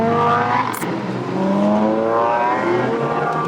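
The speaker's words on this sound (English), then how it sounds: "Listen to them on their warm-up parade lap" Supercars such as Lamborghinis and McLarens, including a McLaren Senna, roll by on a warm-up parade lap at a shootout event, loud, close engines droning and revving steadily in a continuous stream.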